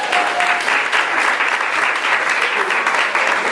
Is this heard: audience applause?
yes